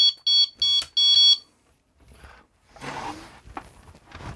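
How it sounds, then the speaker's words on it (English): Three sharp, piercing electronic alarm beeps from a faulty hoverboard's buzzer in quick succession, loud and close, followed by rustling and muffled handling noises. "There's a buzzer that was making that ear rape noise."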